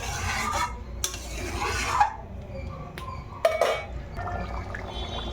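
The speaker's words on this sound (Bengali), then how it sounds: "এর মধ্যে দিয়ে দেবো আমি পনিরগুলো দিয়ে খুব সুন্দর করে নাড়াচাড়া করে" Paneer is stirred into simmering potato-paneer curry in a pan, with wet, liquid stirring and scraping and a few sharp clinks of utensil on metal, close and continuous, with no voices.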